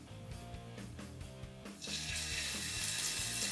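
Scallops are laid into a hot frying pan and begin to sear, a hiss that swells into a loud, steady sizzle partway through and holds to the end, with musical tones running underneath.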